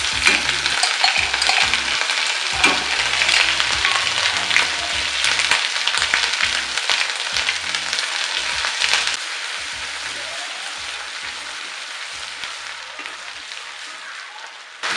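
Garlic ginger paste frying in a pan with asafoetida for a rajma gravy, a dense steady sizzle with scraping stirs, loud and close, softening slightly toward the end.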